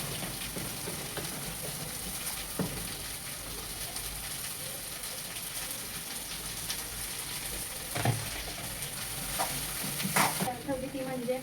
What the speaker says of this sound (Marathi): लसूणचा गोल्डन ब्राऊन दिसायला लागला की लगेच भेंडी घालायची आहे